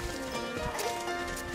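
Horse hooves on a trail ride, a soft uneven clip-clop thudding along steadily under faint background noise and scattered bird sounds, with no speech.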